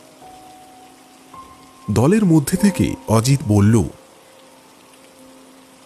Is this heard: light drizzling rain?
yes